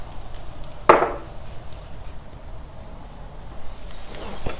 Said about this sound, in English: Chop these onions a little more.